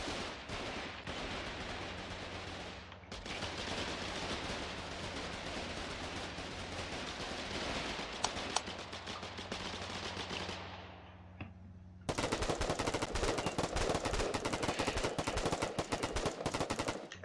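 Sustained gunfire in the war game Foxhole, dense rattling machine-gun bursts that run continuously, then grow louder and harsher in the final stretch.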